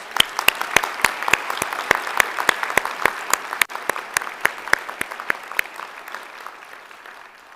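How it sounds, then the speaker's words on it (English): An honors convocation audience at Alfred University gives the society inductees a round of applause. The clapping is loud, close and fairly sparse, with distinct claps that thin out and fade toward the end. "Please join me in a round of applause for all of our outstanding students."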